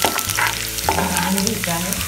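Ginger and garlic fry in hot oil for Schezwan chutney, a close, continuous sizzle with a spoon scraping and stirring through it.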